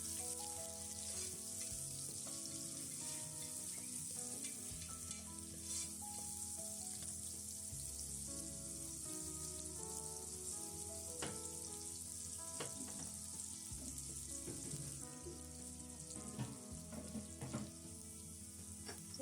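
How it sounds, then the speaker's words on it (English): Chopped onion frying in a pan toward golden brown, a faint steady sizzle with occasional stirring clicks under a low hum, no speech. "add in 1 large chopped onion, and then we're going to cook this until they're nice and golden brown"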